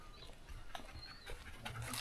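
Flo, a small dog out on a mountain trip in China, pants and whimpers faintly and close by in a few brief, soft bursts against quiet surroundings.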